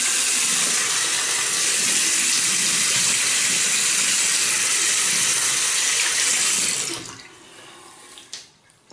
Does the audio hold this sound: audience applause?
no